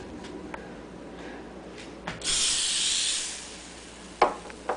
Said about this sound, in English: Cooking spray, just take off the cap and spray it in the stove.